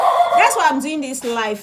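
A dog yips and whines indoors, near and fairly loud, mixed in with someone talking over it.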